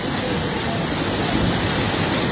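Floodwater swollen by heavy rain rushes through an opened dam, a loud, dense, unbroken roar close by with no voices.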